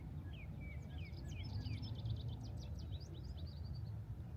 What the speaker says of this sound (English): Feel the presence of nature with the sound of birds, the wind